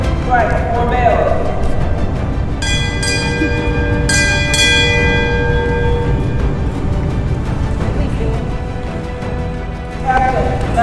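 Ship's bell rung four bells at a U.S. Navy promotion ceremony, clear metallic strikes spaced in pairs and ringing out over a noisy room.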